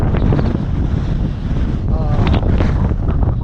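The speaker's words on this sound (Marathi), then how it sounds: "सुंदर असं वारं येते थंड थंड" Cool wind blows hard at a dam, with heavy, continuous buffeting and roaring on the microphone throughout and no clear talk.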